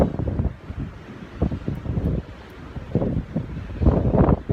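Wind buffets a microphone on the coast during a fishing trip for huss and wrasse, a loud low rumbling roar that gusts up and down throughout with no voices.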